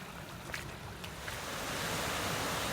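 Swollen winter floodwater pours steadily over a river weir during flooding near Wilmslow, Cheshire, a continuous broad roar that builds slightly louder over a few seconds, heard at some distance with no voices.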